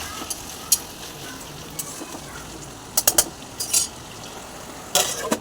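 Mutton is stirred as it fries in a pan for a Telangana-style curry: scattered scrapes and clinks of a utensil against the pan ride over a low, steady sizzle.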